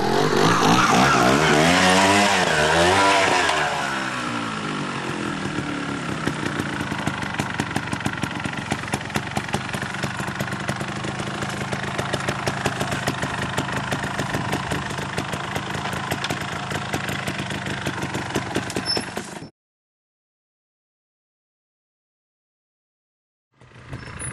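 A trial motorcycle on a hillside runs its engine with a steady idling putter after a louder opening rev, close and continuous, then cuts to silence near the end.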